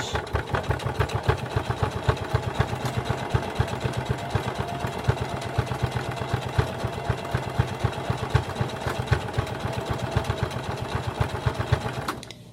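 A sewing machine running a zigzag stitch along the edge of an adjustable strap, a steady close whirring hum with rapid rhythmic needle ticks continuing without pause, no voices.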